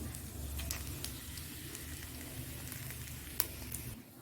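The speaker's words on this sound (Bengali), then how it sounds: "তেলটা দেখো গরম হয়ে গেছে এখানে জিরে নিয়ে নিয়েছি আর শুকনো লঙ্কা নিয়ে নিয়েছি আর এখানে তেজপাতা নিয়ে নিয়েছি" Cumin, dried chilli and bay leaf sizzle in hot oil, a faint steady crackle with occasional sharper pops and no talk.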